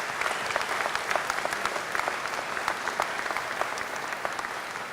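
Audience applause at the Denver mayor's 2017 State of the City address, a dense steady patter of many hands clapping for the full length, moderately loud and even, with no talk over it.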